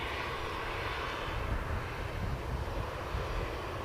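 A Royal Air Maroc airliner at Manchester Airport produces a steady, fairly distant engine roar with a broad rumbling wash and no speech.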